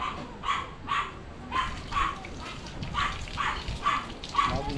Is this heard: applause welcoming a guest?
no